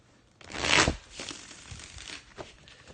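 A Tarot Illuminati card deck is shuffled, giving one close, loud riffling rush of cards followed by softer shuffling rustles.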